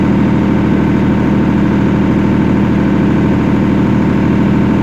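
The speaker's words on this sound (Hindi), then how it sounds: "ये 10 मिनट इंजन चल गया और इसके लिए अभी ये लोड चल रहा है" Perkins diesel generator engine running under load during a temperature switch safety test, a loud, steady, close-up drone with constant throbbing and no variation, and no voices.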